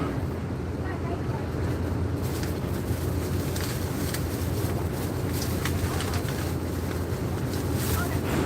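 Steady engine drone and wind rumble aboard the KMP Batu Mandi car ferry crossing from Bakauheni to Merak, a continuous broadband roar filling the whole stretch with faint higher clatter on top.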